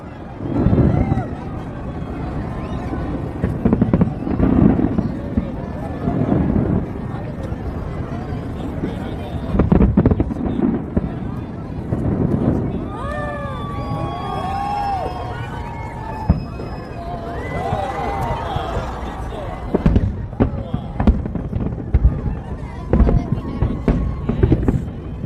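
New Year fireworks show in Sydney heard from within a large crowd, with repeated booms and crackling bursts, some whistling streaks, and crowd hubbub and wind buffeting throughout.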